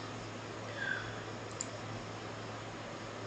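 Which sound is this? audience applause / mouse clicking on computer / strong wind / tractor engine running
mouse clicking on computer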